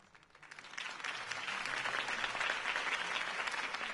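Crowd applause in a Batman video game scene following Harvey Dent's campaign speech, rising from a few claps into a full, steady roar of many hands that holds at an even level, heard somewhat distant.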